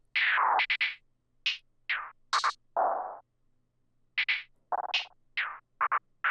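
Lower octave notes from an FL Studio beat sound as a string of short, punchy synth stabs, some in quick doubled pairs, separated by brief gaps, loud and close with no talking.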